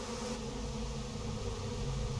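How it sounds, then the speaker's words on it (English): Low droning buzz of a swarm of bees in the video game Psychonauts 2, a steady insect hum holding throughout with no speech over it. "Want me to kill those bees?"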